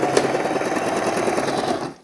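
A sewing machine runs a fast, even stitching burst along a kaftan dress seam, a close, loud mechanical whir that winds down and stops at the end.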